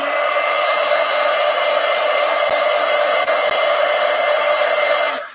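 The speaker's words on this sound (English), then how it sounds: "I have a heat gun so I can dry it faster" A heat gun blows steadily over a layer of Neocolor wax pastel crayon on paper, a continuous close, loud airy roar that holds evenly for about five seconds and cuts off at the end.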